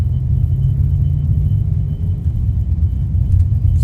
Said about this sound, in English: It's going through the gears very quickly